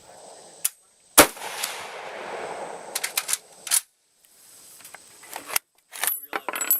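Sharp gunshot cracks from a K98 8mm Mauser rifle fired over iron sights, one loud report early, then a scatter of quicker sharp transients and clicks spread over a few seconds, with bolt-like handling noises between.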